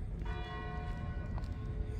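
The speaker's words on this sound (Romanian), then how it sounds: "Am prins și clopotul. Este ora 7." A bell at Fontainebleau castle rings seven o'clock, its tolls distant and fairly faint with long ringing overtones, heard over a low outdoor rumble.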